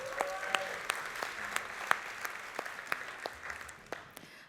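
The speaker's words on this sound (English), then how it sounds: "Can we get a round of applause for that?" A smallish audience at a startup demo day claps in a modest round of applause, sparse individual claps clearly distinguishable and fading toward the end.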